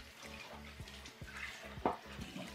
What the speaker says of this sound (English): So I wash this pot as well.